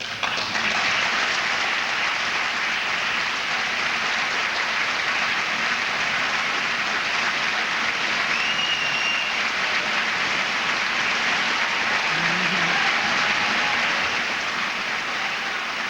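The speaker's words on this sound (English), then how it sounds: "you were among those standing and applauding as well" A large audience applauds in a steady, dense wash of clapping that holds evenly for the whole stretch without any talk.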